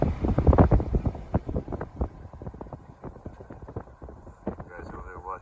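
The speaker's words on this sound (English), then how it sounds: "Really windy here in the city." Wind gusts buffet the microphone outside an abandoned auto factory in Detroit, making a low, rough rumble. A series of close, crunching footsteps runs through it, and a voice is faintly heard near the end.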